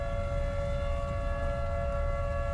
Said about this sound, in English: Tornado sirens still sounding in Clarendon.